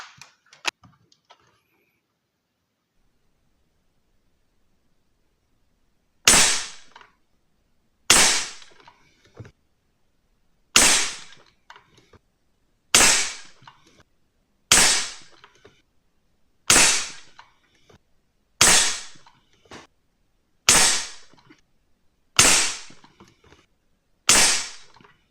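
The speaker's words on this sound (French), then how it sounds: "on va faire 10 coups de pompe pour voir euh, si on essaye d'aller un peu plus haut" An APX NXG multi-pump air rifle being pumped ten times: after a quiet stretch, ten sharp, loud mechanical clacks follow at an even pace about two seconds apart, each decaying quickly, with no voices.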